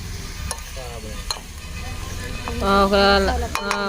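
Chicken feet sizzle and crackle as they fry in a pan, with repeated scraping stir strokes and a louder burst of frying near the end, close and steady throughout.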